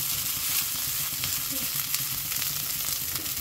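Spring onion and chopped green capsicum stir-fried for naga fried rice, a loud, constant sizzle with light spatula scraping mixed through it.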